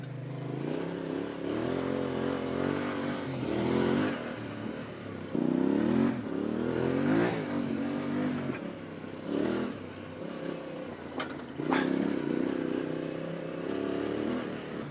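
Yamaha Ténéré 700 motorcycle riding offroad on gravel, engine rising and falling in repeated revving bursts with clatter and scraping from the terrain, fairly close.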